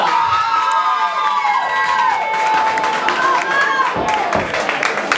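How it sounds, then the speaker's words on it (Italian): At a queer pageant evening, a live audience applauds Mademoiselle Eurasia with loud cheering and shouting. Clapping and excited whoops fill the whole stretch, close and energetic. "E Mademoiselle Eurasia c'ha un bel applausone"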